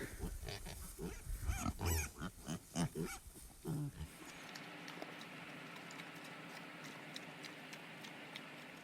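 Pasture pigs grunt in a run of loud, close, rhythmic snorts for about four seconds, followed by quieter outdoor ambience with faint rustling.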